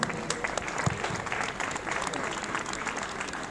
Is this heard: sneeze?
no